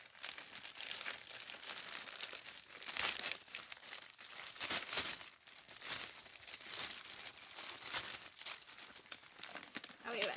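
Paper wrapping crinkles and rustles steadily as a pair of Irregular Choice Nick of Time mermaid iridescent shoes is unwrapped, with louder bursts of crackling throughout and a faint voice in places.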